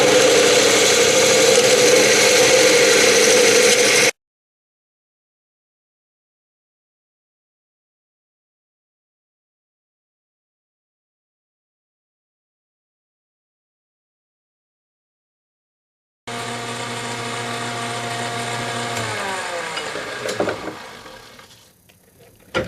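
A wood lathe turns a vase from a pine log, its steady motor drone and cutting noise filling two loud stretches split by a long silence, the second trailing off as the spindle winds down.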